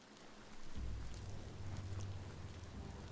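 Steady rain keeps falling indoors in the video game Biomutant, a dense, even hiss of drops with a low rumble underneath that swells after the first half second and holds without pause.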